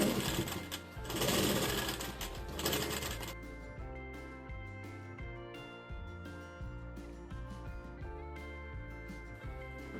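Sewing machine stitching a blouse, a continuous rapid clatter of the needle mechanism, close and steady, louder at first and then settling into an even rhythmic run.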